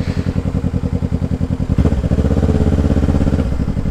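A Kawasaki Ninja motorcycle with a straight pipe exhaust burbles at a loud, pulsing idle. Partway through, it revs up into a denser, sustained roar, heard close by.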